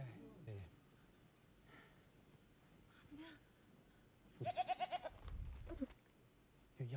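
A goat bleats in a horror film, a loud wavering, pulsing cry near the middle of the stretch, with people talking before and around it.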